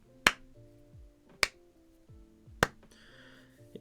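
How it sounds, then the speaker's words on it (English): Three slow, sharp claps ring out at even intervals about a second apart, each crisp and close, with quiet pauses between them. "clapping."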